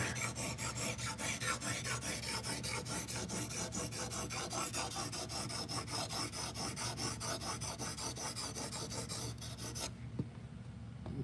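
Steady, rhythmic rasping strokes of a katana blade being sharpened, continuing without pause for about ten seconds before stopping abruptly, close and alone with no talking.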